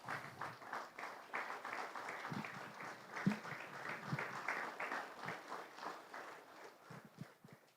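Parents at a city council meeting applauding in a steady patter of claps, fairly faint and continuous, with no talking.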